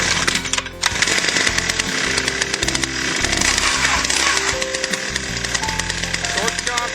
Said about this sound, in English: you're going to want to do short, choppy pulling, almost like a chainsaw or something with a small recoil